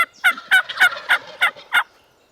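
Wild turkeys gobble in the open, a strutting tom's rapid burst of about seven loud, evenly spaced rattling gobble notes, close and clear with no talk over it.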